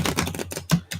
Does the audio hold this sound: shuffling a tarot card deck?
yes